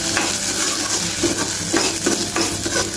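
Rice roasting in ghee in a pan over a low flame, a continuous close sizzle with regular spatula scrapes and stirring strokes every half second or so, no voices.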